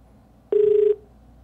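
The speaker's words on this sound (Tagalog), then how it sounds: "Tapos biglang nariring yung telepono" A single steady telephone ring tone sounds once, a clear electronic beep lasting about half a second against a faint background hum.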